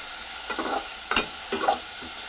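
Tomatoes sautéing in a pan for tomato rice, a steady close sizzle with a few soft scraping stir strokes from a spoon against the pan.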